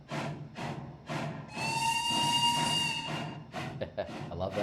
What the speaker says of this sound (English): I love that whistle blow. It's a beautiful sound.